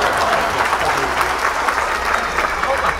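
Dense, steady applause fills the whole stretch at moderate loudness, a continuous wash of clapping with no gaps, heard during a Thai presentation about opening sacks of secondhand branded shirts.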